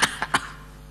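A mimicry artist voices a cough in imitation: three short, sharp coughing bursts close together, near and fairly loud, then quiet.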